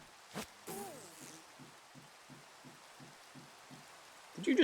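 Rain in Minecraft (All The Mods 10) hisses faintly and steadily in the background, with a regular pulsing game sound, a few brief clicks and a louder burst of noise at the end.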